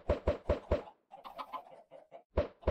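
Minecraft chickens hatched from thrown eggs cluck amid several sharp thumping knocks in a quick rhythmic run, with softer scattered clucks in between, close and without speech.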